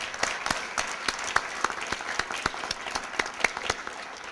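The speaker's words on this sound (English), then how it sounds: "Please join me in giving them a round of applause" A crowd at a community event applauds retired firefighters, a moderate, even stream of clapping from many hands with a few sharper individual claps standing out, fairly distant and sustained.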